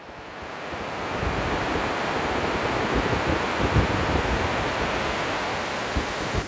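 The Spiti river in the mountains rushes steadily, a broad continuous roar of flowing water heard close by with no talking.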